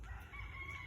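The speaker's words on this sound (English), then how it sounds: "my rooster is way over there" A rooster crows far off in a yard, a faint, drawn-out call set back in the distance with no talking over it.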